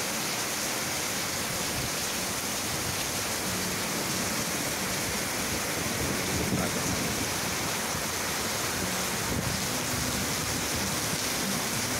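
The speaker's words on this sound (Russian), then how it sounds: "Просто дождь крепче." A steady roar of heavy rainfall fills the scene, broadband and unbroken, with faint low thuds now and then beneath the downpour.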